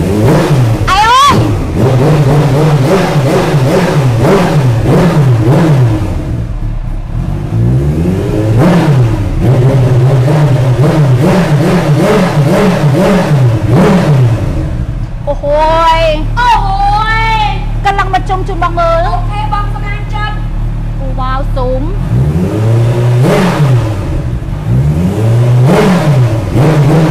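A Kawasaki Ninja H2 motorcycle engine revs loudly in repeated bursts, rising and falling in pitch, with a steady idle between throttle blips and a sharp high-rev stretch partway through.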